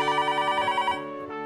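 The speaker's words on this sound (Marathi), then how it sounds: "माझा फोन आहे." A telephone rings with a rapid trilling electronic bell, one sustained burst that fades out near the end, close and clear with no speech.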